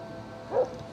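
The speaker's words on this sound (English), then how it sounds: "in the woods with a dog barking" A single short, faint dog bark rings out in the woods, sounding distant against a low, quiet outdoor background.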